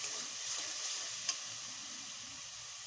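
Dry red chilli spice paste frying with drumstick pieces in a pan: a steady, close, crackling sizzle with a soft stirring scrape and one brief tap, no voices.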